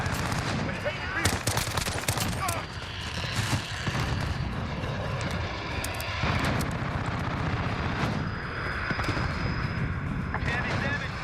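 Call of Duty Modern Warfare combat: rapid gunfire bursts and sharp shots crackle over a steady aircraft drone, loud and dense, with voices speaking at times.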